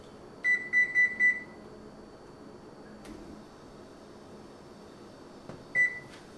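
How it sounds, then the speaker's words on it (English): An oven timer is set with four quick, evenly spaced electronic beeps, then near-quiet with a faint hum and a soft click, and one more beep near the end. "I'm going to set the timer. I'm going to set it for 35 minutes."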